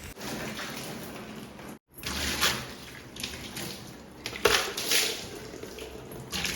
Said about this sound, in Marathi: सर्फच्या पाण्याने धुतल्यावर आता साध्या स्वच्छ पाण्याने धुवून घेते